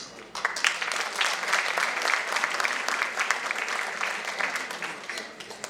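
Sustained applause from the audience at a university alumni conference inauguration, dense steady clapping from a crowd filling the hall for nearly six seconds with no talk over it.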